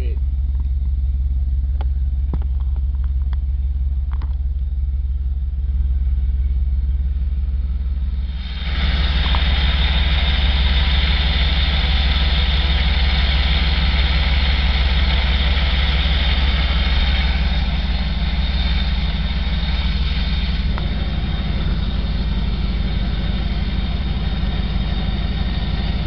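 A 1985 Pontiac Firebird Trans Am V8 idles in a steady, deep rumble, close up and continuous, with a louder, fuller stretch partway through and a person speaking over it.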